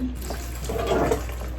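A cup of water pours into loaf ingredients, a steady close splashing gush of liquid filling a bowl, continuous and fairly loud.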